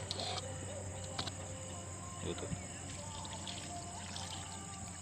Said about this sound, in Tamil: இப்போ நல்லா தண்ணி ஊற்றி பிசைஞ்சிக்கலாம்.